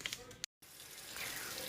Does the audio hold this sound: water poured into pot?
yes